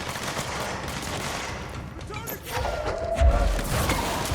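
Gunfire from the video game Control rattles in quick bursts through the middle and end, fairly loud, with someone talking over much of it.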